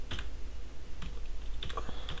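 Computer keyboard typing PHP code, with a few quick clusters of light key clicks separated by short pauses, close and fairly quiet over a low steady hum.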